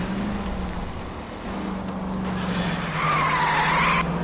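A car driven in the L.A. Noire video game with a steady engine drone, then a long tire skid squeal in the last second and a half, loud and close with no talking.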